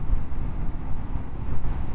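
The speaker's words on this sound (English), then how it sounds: "You get a bit of wind, but it doesn't feel as bad for some reason." Wind buffets the rider while cruising on a Honda CL500 motorcycle, giving a loud, continuous low rumble with no voices.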